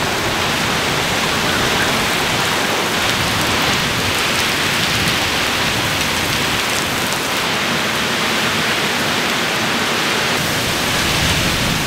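Steady, dense rain pours down over a farm after a microburst storm, a continuous broadband hiss of drops on surfaces that stays loud and even throughout with no voices.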